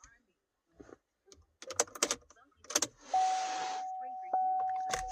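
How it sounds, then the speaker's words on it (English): A 2013 Chevy Malibu starts up: a few clicks and short mechanical taps, then a sustained whirring crank with a steady tone that keeps running to the end, close and clear. "Start the car up."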